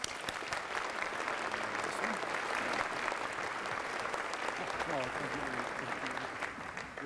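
Sustained applause from a lecture audience welcoming Dr. Larry Thibos to the podium for the 2012 Charles F. Prentice Lecture, steady, full clapping from many hands with a voice faintly audible underneath.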